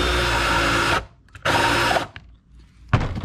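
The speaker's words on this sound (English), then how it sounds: "we're going to take this over to the countersink bit on a drill that I have, and we'll get that cleaned up" A power drill fitted with a countersink bit whines in two loud bursts of about a second each while deburring metal parts for a sheep tilt table, then gives a brief final start.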